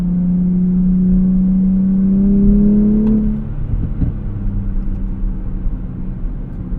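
A 2024 Nissan Z Nismo's engine and exhaust drone steadily at cruise, rising slightly in pitch before easing off around three seconds into a lower, rougher rumble with a few small thumps.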